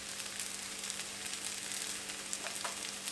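Egg fried rice sizzling steadily in oil over a high flame while it is stirred, a faint continuous frying hiss with a few soft scrapes and no talking.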